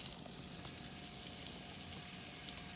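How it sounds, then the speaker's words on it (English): Shrimp sautéing in olive oil for a simple shrimp pasta give off a steady, quiet sizzle with a broad hiss and no talk over it. "Now I'm going to add our shrimp."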